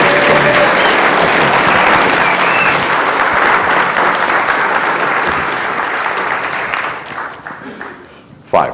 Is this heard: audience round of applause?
yes